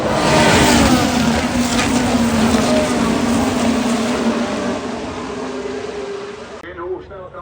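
Formula 1 cars accelerate away at the race start at the Zandvoort Dutch Grand Prix, a loud, dense engine roar heard from the crowd that slowly fades, with a commentator speaking over the PA.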